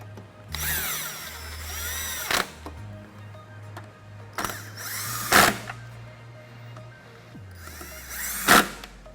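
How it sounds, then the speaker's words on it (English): 10mm bolts are turned by hand into place on a Jeep Wrangler headlight, in three spaced bursts of metallic ratcheting and whirring with sharp clicks and clacks at their ends, fairly close, no talking. "I'm just going to hand tighten the 10mm bolts into place"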